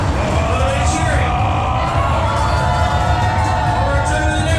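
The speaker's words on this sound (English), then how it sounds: "A little bit of cheering." A sumo show audience cheers, shouts and whoops together in a loud, continuous crowd roar that holds steady throughout.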